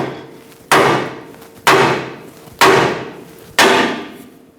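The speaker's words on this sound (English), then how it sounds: "Use a large hammer, give it a few taps." Four heavy metallic hammer blows on the steering drag link of a Ford E-350 strike at steady intervals about a second apart, each ringing sharply and fading, close by with no talk.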